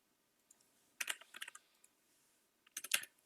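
Typing on a computer keyboard, two short bursts of quick, crisp key clicks separated by a pause, close and quiet with no talking.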